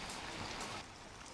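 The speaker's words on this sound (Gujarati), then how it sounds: "સમગ્ર પંથકમાં ભારે પવન સાથે વરસાદ છે।" Heavy monsoon rain driven by gusty wind in Vapi comes through as a brief, dense wash of steady hiss that dips slightly partway through, with no voices.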